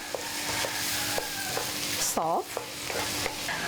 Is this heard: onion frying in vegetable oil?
yes